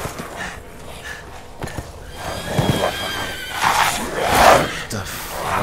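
A horse in the video game Resident Evil Village whinnies in a rising, strained neigh toward the end, after quieter snorts and faint hoof clops over a low ambient game background.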